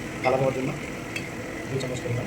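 Chili powder is stirred into mutton curry spices frying in a pan, with a soft sizzle, scraping spoon strokes and light clinks against the pot, partly under a speaking voice.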